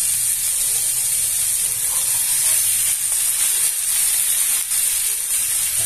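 Pork ribs frying in lard in a pan, a loud steady sizzle and hiss that holds without a break throughout.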